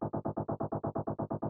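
A synth bass pulses in short, evenly chopped bursts from a shaper effect, about eight per second, with a gated, stuttering rhythm and no voices.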